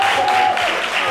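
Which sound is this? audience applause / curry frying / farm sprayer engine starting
audience applause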